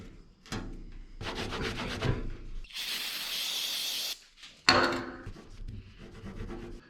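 Hand scrubbing at sticky tape residue on the painted fender of a 1968 IH Travelall, steady rubbing strokes with a hissy, spray-like burst partway through, close and fairly loud with no talking.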